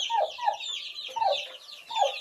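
Young chicks sharing a pen with a turkey hen give a run of repeated high, chirping peeps and soft clucks, close by and fairly clear.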